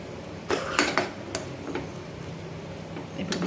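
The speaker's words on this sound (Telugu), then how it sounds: "రైస్ వేసిన తర్వాత ఒకసారి ఇదంతా గరిటె పెట్టి ఈ విధంగా కలుపుకోవాలి" A metal ladle stirs vegetable rice in a cooking pot, giving a few sharp scraping clinks against the pot's side, close and moderately loud, then quieter rustling and faint taps.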